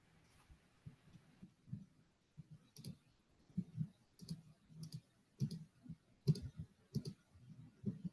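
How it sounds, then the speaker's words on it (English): Sparse computer mouse clicks tick irregularly during a virtual online meeting, faint and isolated against a quiet background with a low hum, no talking. "I don't know if I'm hearing just mouse clicks or crickets. It might have been mouse clicks."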